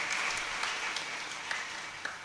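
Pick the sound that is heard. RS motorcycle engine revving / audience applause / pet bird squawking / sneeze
audience applause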